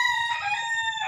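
A Boston Hini fighting cock crows once, close and loud, a single full cock-a-doodle-doo with no other voices.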